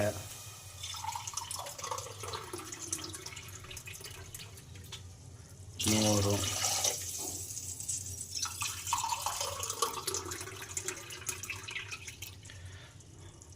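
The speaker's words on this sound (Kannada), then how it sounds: "ನಾಲ್ಕು ಲೋಟ ನೀರು ಹಾಕಂತಿದ್ದೀವಿ" Water is poured by the glassful into a cooking pot of rice and vegetables for pulao, with one loud splashing pour midway. Quieter trickles and a voice speaking can be heard around it.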